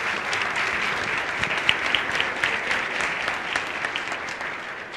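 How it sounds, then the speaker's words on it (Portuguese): Steady audience clapping fills a lecture hall as a volunteer is welcomed, a dense, even patter of many hands held at moderate loudness for the whole stretch. "Palmas para ela, pessoal."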